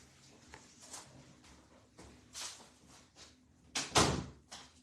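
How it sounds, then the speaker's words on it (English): A door being shut indoors in a home craft room, a series of soft knocks and shuffles building to a sharper, louder thump near the end, with no talking. "I need to shut my door real quick"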